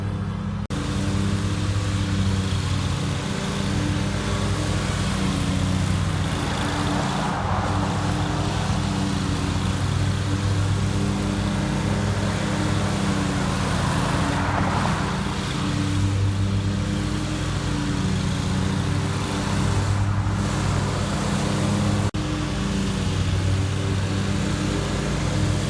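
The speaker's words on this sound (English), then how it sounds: "get y'all a little footage of him mowing" An outdoor lawn mower runs steadily and loudly for the whole stretch, its engine a continuous drone that swells slightly as it passes nearer and then recedes.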